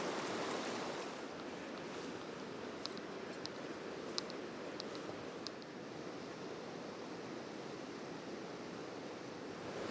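Deep Creek in the Smoky Mountains flows continuously, a broad even hiss of rushing water with a few faint clicks mixed in, without voices.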